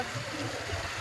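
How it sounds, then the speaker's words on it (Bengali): Floodwater pours across a collapsed road after heavy monsoon rain, making a faint, continuous rushing gurgle in a short stretch with no voices. "এই দিক থেকে পানি যাচ্ছে,"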